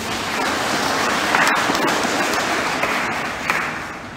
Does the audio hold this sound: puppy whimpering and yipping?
no